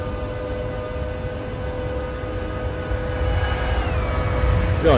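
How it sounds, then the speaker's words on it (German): An ICE high-speed train in Train Simulator 2020, on the S-Bahn line from Leipzig to Bitterfeld near Rackwitz, makes a steady rail rumble with a humming tone. It grows louder toward the end as the train passes close by. "hier wieder ein ICE"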